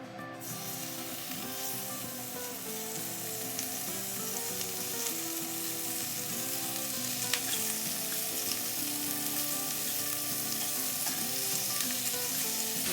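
Bacon sizzles and crackles steadily in a cast iron skillet on an induction cooktop, a close, dense, continuous frying hiss that holds level throughout.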